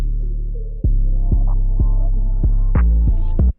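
In a stripped-back FL Studio beat, only the bass plays: a deep, loud, droning low tone punctuated by regular thumping kick hits about every half second.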